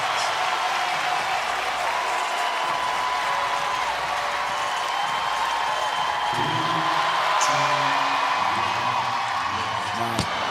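Arena crowd at the CrossFit Games cheering and applauding as an athlete attempts a heavy lift, a steady dense roar of clapping and shouts throughout, with a commentator's voice running over it.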